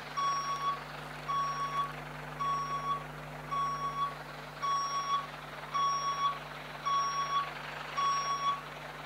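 In the Construction Simulator 2014 video game, a truck's reversing alarm beeps at a steady, evenly spaced pace, about eight tones over an engine hum, clear and moderately close, with no talking.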